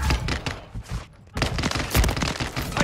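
Gunfire in Call of Duty Modern Warfare III on the Scrapyard map, loud close bursts of rapid automatic shots with a brief lull before heavy firing resumes.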